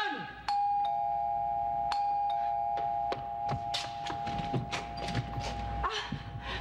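A doorbell chimes near and clear, a sustained electronic ding tone followed by a run of light knocks and taps.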